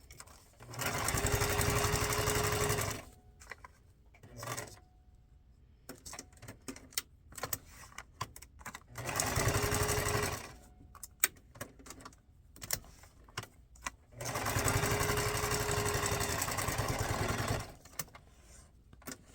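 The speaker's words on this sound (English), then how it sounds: "So let's just sew some stuff onto here." A sewing machine stitches paper and fabric scraps into a junk-journal tag, running in three sustained bursts of a few seconds each with short pauses and small handling clicks between them, no talking.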